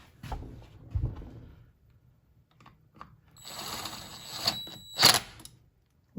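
Impact wrench lightly snugging bolts in a crisscross pattern on a Can-Am Gen 1 Renegade/Outlander 975 big block engine build, heard as a few separate short mechanical bursts, the strongest near the end, with quiet gaps between them.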